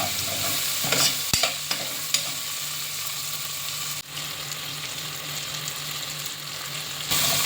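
Tomatoes with a pinch of hing are stirred in a hot pot for dal khichdi, a steady close sizzle broken by a few sharp scraping knocks of the spoon, with no talking.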